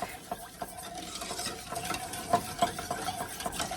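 A wire whisk stirs a flour and milk roux mixture in a pan, with quick irregular scraping and clinking strokes against the metal, close and moderately loud.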